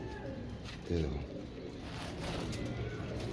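A Teddy fancy pigeon gives a low, throaty coo near the microphone, with soft background noise and murmuring around it.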